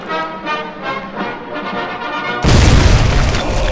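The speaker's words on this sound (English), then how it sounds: "It's like, no, it's detonating." A heavy explosion in the war video game Foxhole bursts in suddenly after a stretch of layered game noise, then rolls on as a loud, dense rumble.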